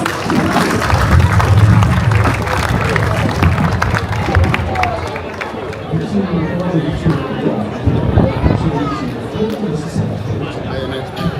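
Audience clapping and cheering at a Sardinian folk festival, a sustained, dense wash of applause with crowd babble throughout, steady and loud from start to finish.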